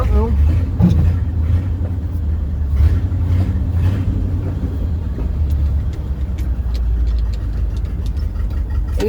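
An old Ford F600 truck sits on rocks with its engine rumbling and revving unevenly as it tries to spin its tires, the deep motor drone steady and close while someone talks over it.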